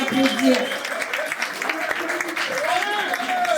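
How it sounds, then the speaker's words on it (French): Audience applause for a sponsor at a COJEP political gathering: a dense wash of clapping throughout, with voices and a speaker talking over it. "Veuillez applaudir le parrain."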